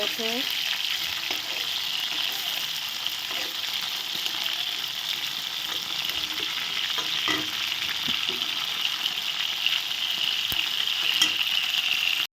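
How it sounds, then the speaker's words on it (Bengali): Large boal fish heads frying in a pan of hot oil, a loud steady sizzle with crackling bursts and occasional stirring scrapes throughout. "সব মাথাগুলো ভাজা হয়ে গেছে এখন তুলে নিচ্ছি"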